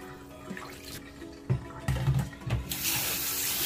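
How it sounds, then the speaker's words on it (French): Cold water pours over rice vermicelli in a bowl, a soft running splash that swells in uneven surges and ends in a steadier hiss. "Et je remets de l'eau froide par-dessus."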